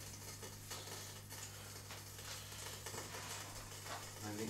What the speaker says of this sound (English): you can hear that butter sizzling away in there